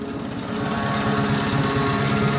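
An old tractor engine idling steadily nearby, a fast, even chugging putter with a slight rattle and no speech over it.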